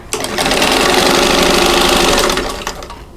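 Sewing machine stitching diamond four-patch quilt pieces, a loud, fast, steady whirring run of about two seconds that starts and stops abruptly, heard close up with no talk.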